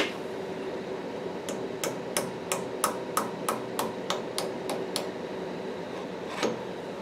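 A dozen sharp metallic hammer taps on a stuck metal part in quick, steady succession, then a pause and one final tap, close by with no talking.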